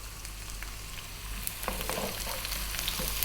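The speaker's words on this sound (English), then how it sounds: "We're going to drop in 1 cup of onion and 1 tablespoon of garlic" Onion and garlic frying in hot oil in a vegan napa cabbage fried rice, with a steady close sizzle that intensifies midway as the pieces are stirred around, and no talking.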